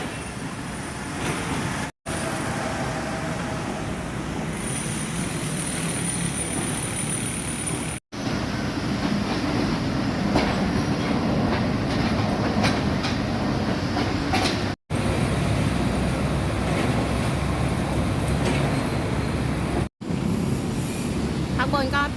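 An Airport Rail Link train rumbles past close by at Hua Mak station, a loud continuous roar of rails and carriages with screeching and rattling that lasts the whole stretch.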